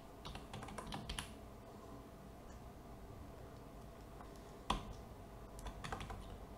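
Typing on a computer keyboard: a steady run of soft, close key clicks with a few sharper taps, quiet and without speech.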